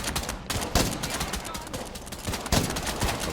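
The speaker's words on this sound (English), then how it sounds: "I'm using my rifle that doesn't have a silencer" An unsilenced rifle fires in State of Decay 2, sending out a rapid string of sharp gunshot cracks over a busy game background, with speech present.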